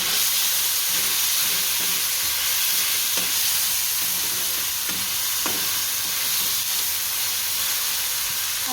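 Tomatoes and salt sizzle in a hot pan for a poha and suji breakfast dish, a loud continuous frying hiss with a few faint stirring knocks and no talk.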